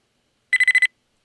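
A spider enemy's alert cue from a video game: five quick, bright electronic beeps in a tight rhythmic burst lasting under half a second, sharp and clean with silence before and after.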